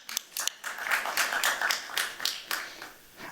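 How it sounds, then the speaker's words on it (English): A conference audience breaks into a brief burst of applause, many hands clapping in a dense, lively patter for a few seconds in a hall. "claps"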